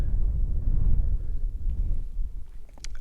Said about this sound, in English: Still damn windy.